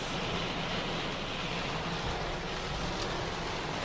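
Steady, dense rain falls in a storm, pattering on surfaces around a residential street with water running from gutters, a constant broadband hiss close and even throughout with no voices.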